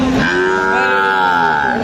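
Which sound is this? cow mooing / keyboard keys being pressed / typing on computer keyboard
cow mooing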